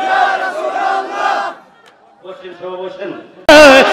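Crowd at a 2023 Urs Sharif mahfil gathering shouts the takbir chant in loud unison bursts, a pause between calls, then a sudden sharp loud surge of voices at the end.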